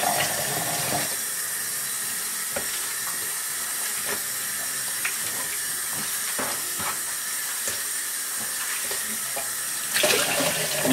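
Tap water runs steadily over a cyanotype print being rinsed in a sink, a continuous hissing wash with faint clinks and splashes from handling, close by and unbroken throughout.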